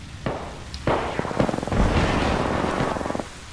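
Incendiary grenade in Apex Legends bursting into a crackling, popping run of small flames and snaps, starting with a few sharp pops and swelling into a dense sizzling crackle that fades out after a few seconds.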